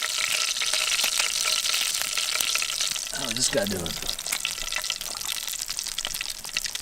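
Lobster tail and bacon for surf and turf bubbling and sizzling in a pan at a forest campsite, a steady frying crackle with a brief voice speaking over it midway.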